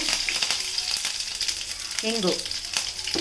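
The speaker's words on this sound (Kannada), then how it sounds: "ಈಗ ಎಣ್ಣೆ ಬಿಸಿ ಆಗಿದೆ. ಇದಕ್ಕೆ ಸ್ವಲ್ಪ ಸಾಸಿವೆ, ಕರಿಬೇವಿನ ಸೊಪ್ಪು," Mustard seeds and curry leaves crackle and sizzle in hot oil in a pan, a steady close frying hiss with scattered pops, while a brief voice-like tone rises partway through.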